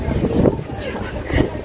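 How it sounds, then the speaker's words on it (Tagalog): Strong wind buffeting the microphone on Sentosa beach in Singapore, heavy low rumbling gusts that swell and fade, with no clear voices. "Masyadong mahangin."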